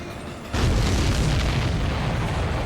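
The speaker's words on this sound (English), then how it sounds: "Missile hit the supply ship dead on." A missile strikes a supply ship in the Ace Combat 7 video game, setting off a sudden loud, deep boom that swells into a sustained roaring rumble. The blast follows a brief quieter stretch.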